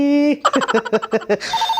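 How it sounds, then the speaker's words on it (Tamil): A phone rings with a steady electronic tone, then a quick run of melodic notes, then the tone again. It is loud and close, and no one speaks over it. "ஐயோ ஃபோன் வருது"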